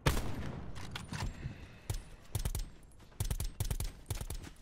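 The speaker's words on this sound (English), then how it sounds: "Up on the hill, I'm getting sniped." Sniper and rifle fire in Black Ops 4, a series of sharp cracks arriving in separate bursts and clusters with short gaps, moderately loud over quiet game ambience.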